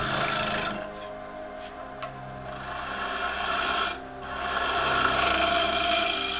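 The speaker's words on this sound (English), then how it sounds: "Just doing a nice face scrape there using the nice long wings" A gouge face-scraping a 7-inch fiddleback claret ash bowl on a wood lathe makes a steady, close, rasping hiss with a low motor hum beneath, easing briefly before the scrape resumes.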